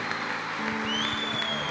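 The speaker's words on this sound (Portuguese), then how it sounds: "Dá uma salva de palmas ao Senhor." Church congregation gives a round of applause to the Lord, a steady wash of clapping from a crowd with a faint tone and music lingering underneath.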